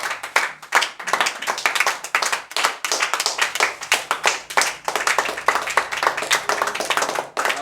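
A church congregation claps in a fast, steady rhythm, many hands together close and loud, sustained throughout with faint voices mixed in.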